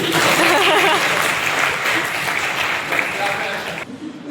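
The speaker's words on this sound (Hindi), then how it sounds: "तालियां बजाओ भाई" An audience at a casual Hindi vlog gathering claps in a dense, steady wash of applause that stays loud and even, then cuts off abruptly just before the end.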